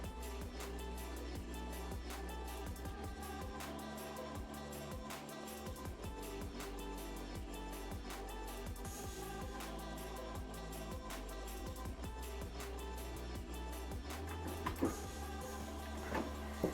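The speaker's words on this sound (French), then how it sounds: "on va coudre avec la machine une partie du tissu" A sewing machine stitches fabric, its needle running in a fast, steady mechanical rattle with a low motor hum throughout, briefly pausing and resuming near the end.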